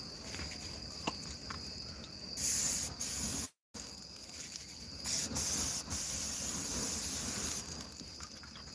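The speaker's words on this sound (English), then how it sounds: "Go ahead if you want to spray some Pam" Pam cooking spray hisses onto a grill in several short and longer bursts, close and fairly loud, with brief quiet gaps between sprays.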